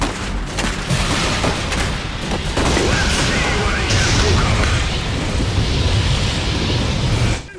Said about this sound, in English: the Ognivo is equipped with heavy flamethrowers that are adept at eliminating enemy units that have taken cover in fortifications and buildings